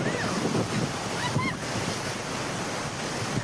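A swollen, flooding river rushes in a continuous dense roar of churning water, steady and fairly distant, with no other sounds standing out.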